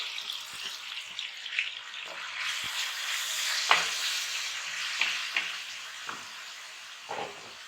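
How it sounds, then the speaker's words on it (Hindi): Chopped onions sizzle in hot ghee in a kadai, a steady close-up frying hiss broken by a handful of soft stirring scrapes and clicks, with no voices. "प्याज को अच्छी तरह हम फ्राई करेंगे"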